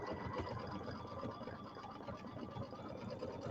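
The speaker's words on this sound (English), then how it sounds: "But we get to watch it satin stitch." A home embroidery machine runs a satin stitch on a hooped quilted table topper, a steady, fast rhythmic needle chatter with a constant motor hum, close and continuous without talk.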